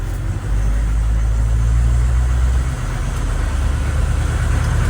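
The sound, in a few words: 1986 AM General HMMWV Humvee driving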